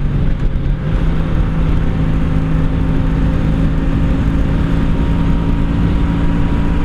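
A 1984 Honda V65 Sabre VF1100S motorcycle cruises on back roads in fifth gear, its engine a loud, steady, close drone with wind rumble and no pauses.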